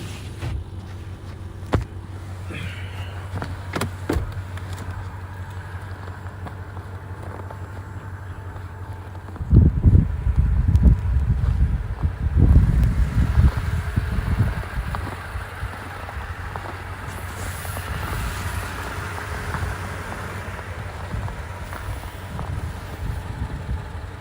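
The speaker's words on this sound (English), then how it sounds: "That thing's blocking the wind." Wind from a winter storm in Kansas, heard outdoors as a steady low rumble that swells into strong buffeting gusts near the microphone midway, then eases back to a constant windy roar.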